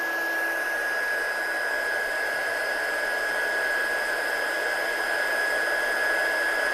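A heat tool blows hot air steadily to heat set foil, giving a loud continuous whooshing roar with a constant high whine, alone with no talking.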